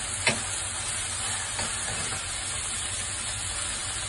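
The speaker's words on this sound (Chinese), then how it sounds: "跟住就将佢炒匀啦。" Eggplant stir-fried with salt and sugar in a wok gives a steady loud sizzle and hiss throughout, with a few faint scraping strokes of stirring.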